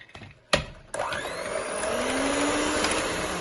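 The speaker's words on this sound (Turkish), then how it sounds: "Yumurtamı ve şekerimi şöyle 5 dakika mikserin yüksek devreyle çırpacağım." An electric mixer clicks on, then whirs loudly and steadily at high speed whisking eggs and sugar, its motor pitch rising slightly as it keeps running.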